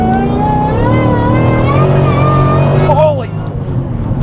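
A Cadillac V-Series car engine revs loudly and steadily up close, its pitch rising and falling over several seconds before cutting back sharply near the end, with a man's exclamation heard over it.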